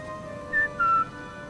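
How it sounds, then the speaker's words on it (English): A player character whistles to lure an enemy in the stealth shooter Sniper Elite 5, two short clear whistled notes, the second slightly lower and longer, over quiet game ambience. "I'm gonna come over here and then I'm gonna whistle."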